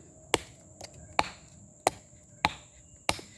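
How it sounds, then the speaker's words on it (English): LionSteel M3 fixed blade knife chopping into wood, six sharp near impacts at a steady, slightly uneven rhythm, each a crisp thwack with a short tail, no talking. "you can see that's chopping quite effectively, and that's with this Nylon Steel"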